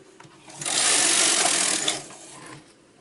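A knitting machine carriage is pushed across the needle bed to knit one row, giving a single smooth whooshing slide that swells, holds for about two seconds, then fades, close and fairly loud.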